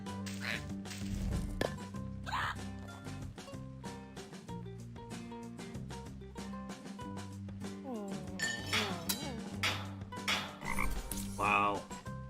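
Repeated frog croaks in the video game Find Matt's Cats, a series of distinct, fairly loud calls set against background game music that continues throughout.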